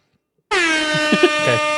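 A loud, sustained air horn blast begins abruptly and holds steady for over a second, with faint voices beneath it.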